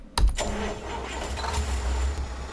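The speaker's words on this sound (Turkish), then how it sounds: "Şimdi bakalım çalıştıralım aracımıza" A Kamaz truck engine cranks and starts in Euro Truck Simulator 2, opening with a sharp starter burst before settling into a steady low rumbling idle, heard alone.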